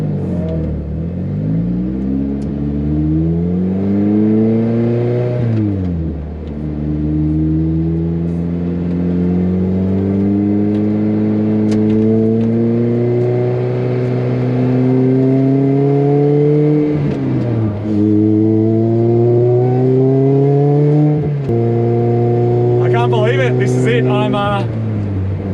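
A Lotus engine accelerating on the Bathurst race track while climbing toward Mount Panorama, loud and steady from inside the car, with repeated rising revs broken by gear changes and a driver talking over it.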